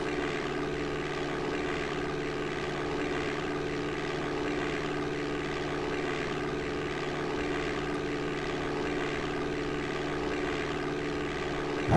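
A propeller aircraft engine drones steadily in DOS Flight Simulator 5.1, a constant loud hum with layered tonal harmonics and no change in pitch throughout, with no voices.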